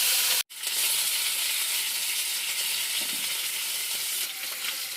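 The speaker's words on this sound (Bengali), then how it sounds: "মাছ ভাজা হয়ে গেছে" Four pieces of rohu fish fry in hot oil with a dense, loud, continuous sizzle that drops out for a split second near the start and then holds steady.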